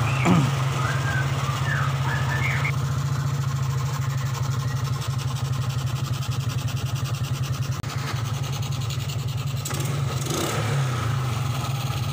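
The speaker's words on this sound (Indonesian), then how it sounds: "Kalau digeber ini nggak berbet ya." A Suzuki Smash 110 motorcycle engine running with its battery disconnected, revving steadily and close by in a continuous throbbing drone that holds through the whole stretch, with no talk over it.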